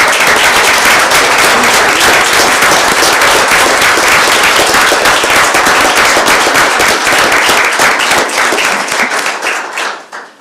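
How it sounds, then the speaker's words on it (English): Sustained, loud applause from an audience at a Leavenworth city commission meeting honoring standing Vietnam veterans, dense clapping that holds steady for about ten seconds before tapering off at the end. "They really need to get your applause."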